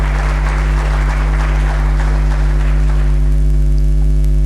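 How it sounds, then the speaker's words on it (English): Steady applause from a crowd, dense and continuous throughout, with a low electrical hum running underneath. "glad you are clapping because it's your money, it's not mine."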